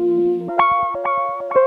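A heavily time-stretched melodic sample chop from the Pedal Sessions pack plays as a few warped, echoing tones with a pulsing, smeared texture, loud and alone, for a Travis Scott style beat.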